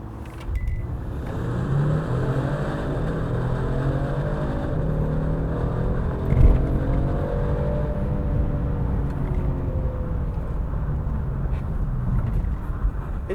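A 2019 Genesis G70 sedan with an 8-speed automatic launches hard under launch control, its engine note climbing steadily in pitch through successive gears, loud and continuous with no speech.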